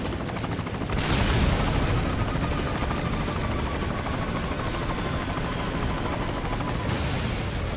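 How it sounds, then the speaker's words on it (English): A helicopter is blown up in the video game Metal Gear Solid V: Ground Zeroes, a sustained roar of rotor noise and gunfire-like crackle with a burst near the start, loud and continuous. "There goes that helicopter."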